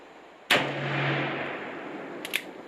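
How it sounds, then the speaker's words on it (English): A single loud, sharp gunshot from an Uberti Remington 1875 Outlaw revolver fired two-handed with a fresh load, with a long echoing tail and a couple of faint clicks near the end. "I'll shoot with 2 hands in the beginning just to see what it will group like."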